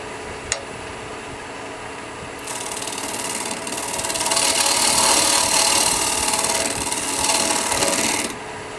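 New cutter shaving a strata wooden bowl on a lathe, a close, steady scraping hiss that starts after a sharp tick, builds louder over several seconds, then cuts off abruptly near the end.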